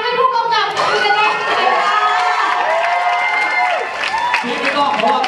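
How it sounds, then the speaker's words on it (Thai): Loud crowd cheering and applause for a director at a Thai film event, a dense continuous roar with shouts and voices mixed throughout. "ปรบมือดังๆให้ผู้กำกับคุณนะ"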